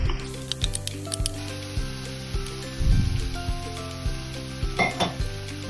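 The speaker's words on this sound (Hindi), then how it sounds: "जो मैंने पेस्ट बनाया था ग्रेवी के लिए, वो पेस्ट मैंने तेल गरम करके उसमें डाल दिया।" Gravy paste for malai kofta sizzles in hot oil in a kadai, a steady close frying hiss broken by repeated scraping and clinking strokes of a spoon against the metal, with a louder burst of sizzle midway.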